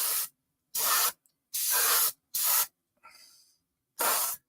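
An airbrush spraying paint gives short bursts of close, airy hiss, five main sprays of under a second each separated by silences, plus one fainter, thinner puff.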